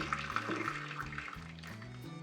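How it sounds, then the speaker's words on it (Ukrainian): Water pours and gurgles continuously with a hollow, rising tone as a jar of pickled vegetables fills, steady and close. "Доливаємо більше ще води"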